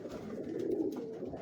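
Pigeons cooing on a rooftop in Lahore, a soft low throaty coo rolling over about a second, close and alone.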